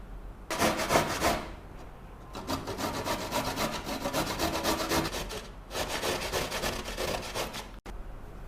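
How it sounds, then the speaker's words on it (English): Carrots rubbed briskly against a hand grater for salad, a steady rasping scrape in long bursts with short pauses between strokes, close and fairly loud, with no talking. "So let's grate our carrots on this side of the grater."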